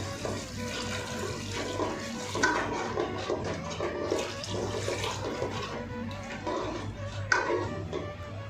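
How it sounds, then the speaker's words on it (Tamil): Water pours into a pan of fish curry seasoned with rasam powder, a continuous close splashing and gurgling stream that lasts several seconds. "தேவையான அளவுக்கு தண்ணி ஊற்றிடும்"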